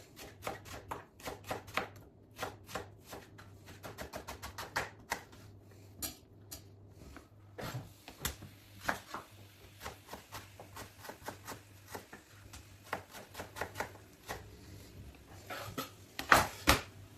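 Knife chopping onions very finely on a board, a fast run of sharp, evenly spaced taps that pauses and resumes, close and clear over a low kitchen hum.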